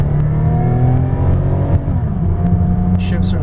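A 2000 Lexus ES300 Platinum Edition climbing an incline under strong power, its engine droning steadily with rising tonal hum throughout, heard from inside the cabin, with brief faint clicks and wind noise near the end.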